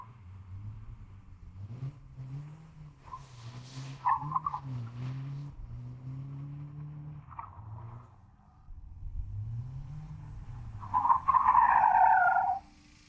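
BMW E92 drift car on a dyno with 18-inch wheels and 285 Westlake tires, engine revving in rising and falling pulls with a squealing, spinning-tire whine near the end.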